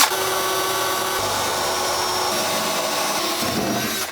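Power drill boring pilot holes with a 1/8 inch bit into metal on a 1967 Barracuda while making an access door, one steady loud whine held for about four seconds with no talking.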